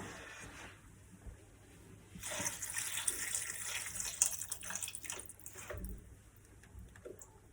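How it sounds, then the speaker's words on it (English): Stock being poured into a pan of courgette and pea risotto, a steady liquid splash and trickle that swells midway and then eases, heard close up with no talk. "And then the rest of the stock, would you like to pour into the pan?"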